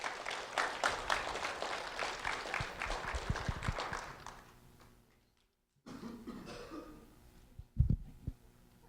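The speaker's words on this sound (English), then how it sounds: "a round of applause for Josian Oquendo" An audience applauds a fourth grade student at a sheriff's office ceremony, a dense burst of clapping for about four seconds that fades to silence, followed by scattered rustles and a couple of thumps.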